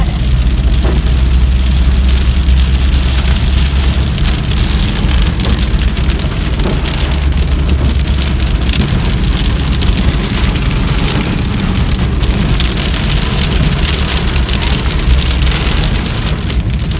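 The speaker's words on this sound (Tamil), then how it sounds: "மழை போக போக ஜாஸ்தி ஆகிட்டே இருக்குது." Heavy rain pours continuously and loudly on surfaces around a temple visit, a dense unbroken hiss with a low rumbling undertone lasting the whole stretch, no voices over it.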